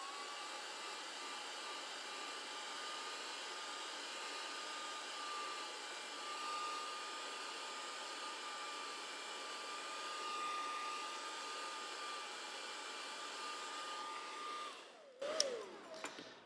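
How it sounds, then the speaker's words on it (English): A hair dryer warming masking tape adhesive blows steadily at close range with an even, continuous whoosh and faint whine, ending in a few clicks and rustles as it shuts off. "use a hairdryer to warm up the adhesive on the tape"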